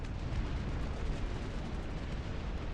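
Dense, continuous rumble of gunfire and explosions in the RTS video game Dust Front, a steady broadband roar of distant battle with overlapping booms and no talking.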